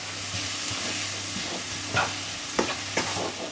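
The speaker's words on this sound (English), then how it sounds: "Give that a good stir around." Vegetables stir-fried in a wok for chicken and shrimp nasi goreng after a splash of kecap manis, with a steady sizzle and a few scraping clacks of the utensil.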